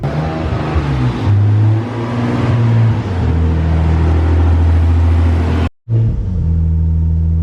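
A Nissan 300ZX Z32 left sitting for two years idles loud and close with a deep rumble, rising into repeated revs before a sudden brief cutout and a return to idle.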